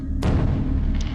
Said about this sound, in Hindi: पूरे गांव में रोशनी की जगमगाहट और पटाखों की आवाज़ें गूंज रही थी।